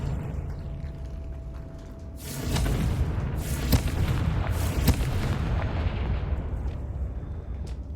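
An explosive Confringo spell blast in a Harry Potter video game, a loud booming burst that erupts and rumbles on, with sharp cracks layered through the sustained roar.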